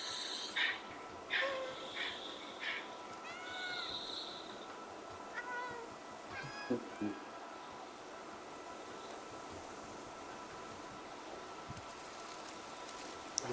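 A cat meows in the video game Stray, a short mewing call heard over a steady ambient game soundscape with a faint repeating high tone and occasional soft clicks.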